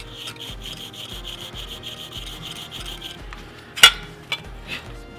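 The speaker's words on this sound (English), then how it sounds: "So there's a lot of rust in here, so yeah, I'm gonna try to clean it out." Rust being scrubbed out of a clutch pedal bushing on a Lexus IS300: a steady rhythmic back-and-forth rubbing, close and moderately loud, about a dozen even strokes, then a few sharper scrapes and knocks.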